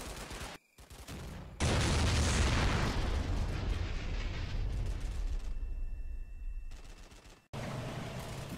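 An artillery barrage in a World War II Italy wargame, Combat Mission Fortress Italy, opens with a sudden heavy roar of overlapping explosions that rumbles loudly for several seconds, fades, then breaks out again with sharp blasts near the end.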